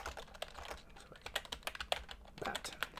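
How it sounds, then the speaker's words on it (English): Irregular clicking of keys on a computer keyboard, close up, typed in uneven bursts with short pauses. "Typing quite badly there."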